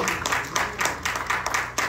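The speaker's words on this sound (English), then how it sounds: "Let's give God a hand clap." Church congregation clapping hands in a fast, loud, steady rhythm of repeated claps for about two seconds.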